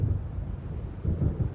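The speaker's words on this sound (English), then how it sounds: "It seems there's a storm coming." Low rolling thunder from an approaching storm in Alan Wake, a soft, distant rumble that swells twice over quiet ambience.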